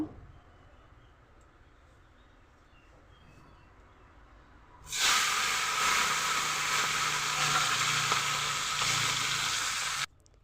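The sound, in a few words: small fish frying in oil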